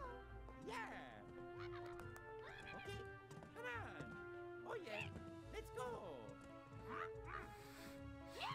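Dog barking in Luigi's Mansion 3, repeated yelps and barks in quick bursts throughout, close and clear, mixed with playful whine-like game sounds.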